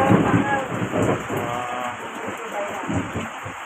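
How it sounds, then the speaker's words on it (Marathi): Steady rain patters outside with rumbles of thunder, heard close and fairly loud throughout, with no speech over it. "बाहेर पाऊस पडतोय"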